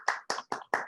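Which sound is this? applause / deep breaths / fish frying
applause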